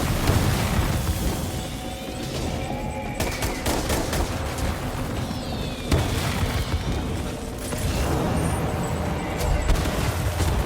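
Repeated explosions and booming blasts in the Death Stranding 2 video game, a loud dense barrage of bursts and rumbles with sharp cracks recurring over about ten seconds.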